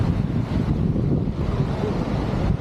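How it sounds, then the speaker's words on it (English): Strong wind buffets the microphone at a waterfall viewpoint, a steady loud low roar with no breaks for a few seconds and no talk. "Hey, it's windy."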